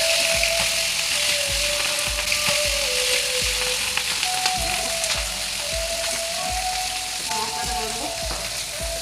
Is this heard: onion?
yes